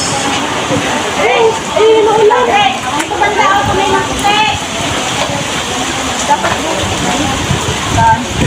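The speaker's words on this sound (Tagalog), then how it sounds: "Ulan pa rin." Steady rain patters and hisses in the background while people talk over it nearby.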